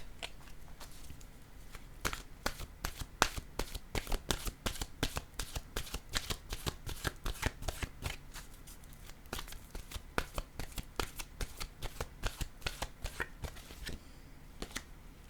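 Oracle cards shuffled by hand, a rapid run of crisp riffling snaps and flicks in quick bursts, close and clear, with no talk over it.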